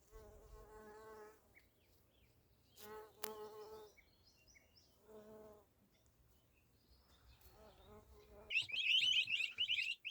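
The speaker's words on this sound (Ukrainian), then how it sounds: "он бджоли літають" Bees buzz in intermittent bursts around blossoming quince and apricot trees, their humming rising and fading as they fly past nearby, with a louder, closer buzz near the end.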